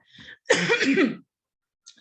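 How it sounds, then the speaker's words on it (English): A single close, harsh cough burst, preceded by a brief throaty sound and followed by a faint breath. "sorry, I had to cough."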